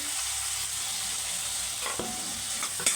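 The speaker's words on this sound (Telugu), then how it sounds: "చిన్న ముక్కలుగా కట్ చేసి పెట్టుకున్న టమోటా ముక్కలను వేసుకోవాలి" Tomato pieces dropped into hot oil in a pan with chili powder while making cabbage curry, giving a steady sizzle and frying hiss with a few stirring scrapes near the end, close and fairly loud.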